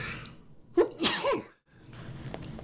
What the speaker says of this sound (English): I'm going to go ahead and sneeze.